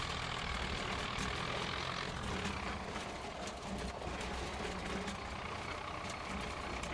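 A tractor in a Scottish farming video game hauls a load of coal, its engine droning steadily and fairly loud throughout, a continuous low rumble with no pauses.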